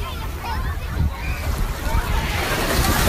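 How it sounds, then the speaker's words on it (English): Ocean surf washes onto a beach in a steady broadband rush with wind buffeting the microphone, while people chatter and call out over the waves throughout. "You should be right here to get the big wave."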